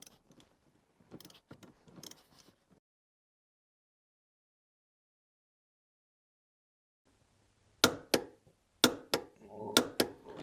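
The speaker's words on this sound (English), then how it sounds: "I'm going to use a torque wrench here to tighten this to final torque, which is going to be 27 foot-pounds." Torque wrench tightening a Saab 9-3 front seat belt bolt to 27 foot-pounds, a few sharp close clicks and ratcheting snaps after a spoken remark and a long quiet gap.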